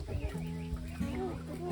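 Young roosters on a small farm attempting to crow, producing faint, strained, wavering calls and soft clucks that rise and break off, heard quietly in the background of a short, low-level moment.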